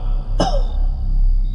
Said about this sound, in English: A man had coughed close beside them.